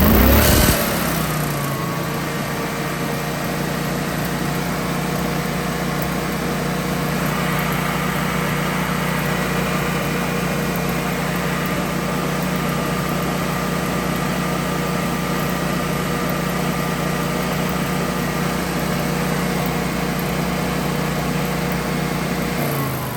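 Generac standby generator engine running during a manual start test, a steady, loud mechanical drone with a constant hum that starts abruptly and holds evenly for the whole stretch.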